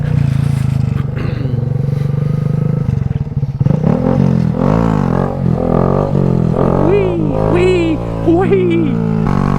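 Motorcycle engine revving hard during a wheelie attempt, a loud, close, continuous roar rising and falling in pitch with sharp throttle swells, under wind noise and a rider's voice.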